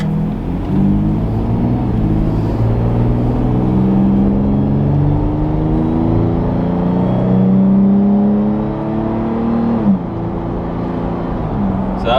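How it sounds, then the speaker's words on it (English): A Toyota 4Runner fitted with a Magnaflow Overland Series exhaust accelerates mildly, its engine note rising through several gear changes as a smooth, moderate drone up close, then easing off near the end. "So that was a mild acceleration."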